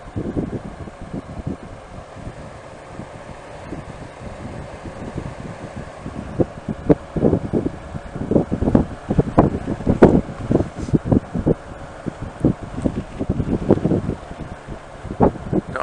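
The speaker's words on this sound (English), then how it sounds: "The audio is going to be kind of screwy because it's really, really windy." Strong wind buffets the microphone while riding a 2018 Honda Goldwing DCT Tour motorcycle, a continuous low roar broken by loud, irregular gusty thumps that grow heavier in the second half.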